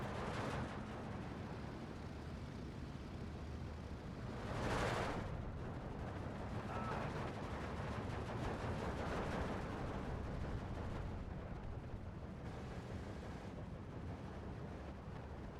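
Machine gun fire in Steel Division II, a steady stream of distant rattling gunfire with occasional heavier booms running through a busy battlefield din.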